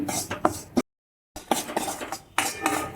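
Wheat flour roasting slowly in ghee in a pan for Gujarati sheera, with a metal spoon scraping and clinking against the pan in steady strokes, close by, broken by a brief silence.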